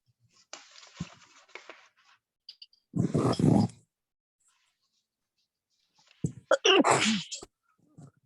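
A sneeze during a land use board meeting, heard twice, each a sharp burst, with a second louder sneeze a few seconds after the first and quiet room noise between.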